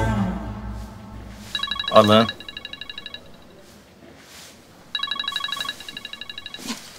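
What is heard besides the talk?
telephone ringing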